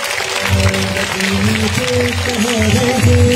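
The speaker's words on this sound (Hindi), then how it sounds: "एक बार जोरदार तालियां हो जाए।" An audience at a Cure Pakistan Welfare charity event applauds loudly on request, a broad wash of clapping running throughout under sustained music with a low rhythmic beat.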